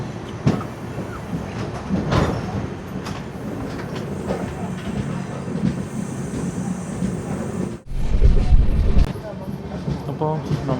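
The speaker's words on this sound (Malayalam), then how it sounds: "വിവേക് എക്സ്പ്രസ് എറണാകുളം ടൗണിലോട്ട് അടുക്കുന്നു." The Vivek Express train approaching Ernakulam Town station in Kerala, with a steady rolling rumble, rattling carriage noise and wind, and a sharp clunk partway through, under someone speaking.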